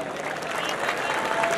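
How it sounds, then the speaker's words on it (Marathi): A crowd applauds at a wrestling event in Baramati, and the clapping stays dense and even for the whole short stretch. "शेतकऱ्याला टाळ्या करा की जोरदार"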